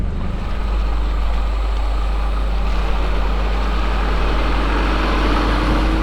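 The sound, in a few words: 4x4 truck driving slowly down into a creek crossing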